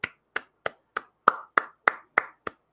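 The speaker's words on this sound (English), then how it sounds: "Clap, everybody." Nine sharp hand claps from one person on a livestream marking a subscriber milestone, close and fairly steady in rhythm, the later claps a little fuller and ringing slightly longer.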